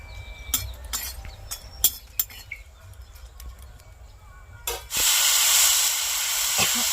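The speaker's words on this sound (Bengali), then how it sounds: "প্রথমে আমি লঙ্কাগুলো দিয়ে ভেজে নেব" Chillies dropped into a hot pan of oil: a few light clinks and taps over a low rumble, then a sudden loud, steady sizzling hiss that carries on to the end, with no voices.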